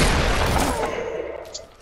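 Gunfire in a Fortnite playground battle, heard as a loud, close blast that decays into a rumbling tail over about two seconds and fades steadily toward the end.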